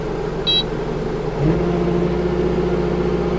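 A tractor engine idles steadily, warmed up before mulching trails through a swamp, its close, loud diesel rumble constant, with a short beep near the start and a slight rise in the engine note about halfway.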